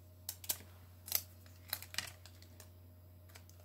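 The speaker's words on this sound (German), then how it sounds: "jetzt hebe ich mir hier nämlich so ein bisschen die Folie an" Protective film peeled up from a diamond painting canvas: a few quiet, sharp crinkling ticks and small plastic snaps spaced irregularly over a steady low hum, close and faint.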